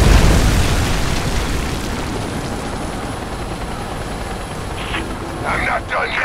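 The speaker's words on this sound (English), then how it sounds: "Oh, come on, not another helicopter." A helicopter in the video game Rise of the Tomb Raider gives a loud, dense rotor roar with explosive rumble, strongest at the start and then holding steady throughout.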